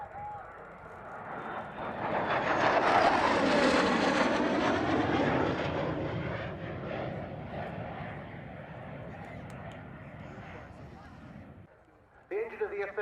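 An F-35B Lightning with a Pratt & Whitney F135 turbofan passes at an air display at RAF Cosford, a roaring jet that swells to a loud peak, then fades slowly as it moves away, with a commentator talking over it.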